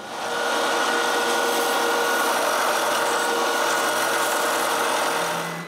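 Steady abrasive rasping of sandpaper or a power sander smoothing router-cut wood on a wooden padlock, continuous and close, with no speech.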